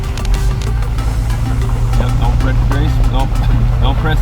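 A truck is being driven slowly and smoothly while hauling hay, its steady low engine drone running continuously underneath, with a few brief knocks and rattles and voices talking over it.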